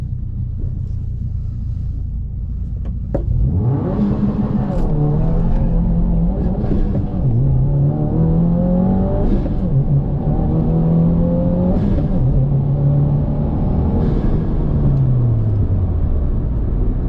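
2022 Subaru WRX with JB4 tune and ETS intake pulling hard down an eighth-mile drag strip, a steady loud engine roar rising through the gears after a quiet idle at the start, with no talk over it.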